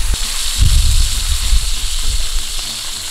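A steak just flipped in a hot pan sizzles loudly, a sharp burst of frying that then settles into a steady hiss and crackle, heard alone.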